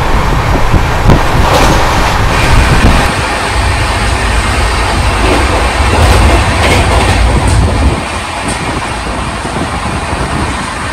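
Dense, steady rumble and rattle of a Samudrakanya Express train running at night from Digha to Puri, heard from inside the carriage, with continuous wheel noise, faint clicking and wind, loud and unbroken throughout.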